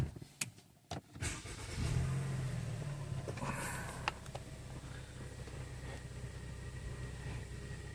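A 2013 Land Rover Evoque engine cranks and catches, then settles into a steady idle hum, moderately close with a few clicks at the start.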